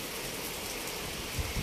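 Rain falls steadily outside a home in a faint, even hiss that stays constant throughout the brief moment.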